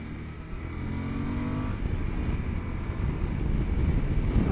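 A 2020 Suzuki V-Strom 1050 motorcycle accelerates with a loud, steady engine roar that builds slightly, heard up close with rushing wind noise and no talking.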